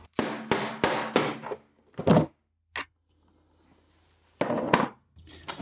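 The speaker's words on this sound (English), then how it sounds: "Now I need to use a hammer to bang through and take the handle off." Several heavy, hollow thunks from hammer blows knocking the handle off a plastic KeyKeg, close and loud, coming in a quick cluster, a lone hit, then another pair after a pause.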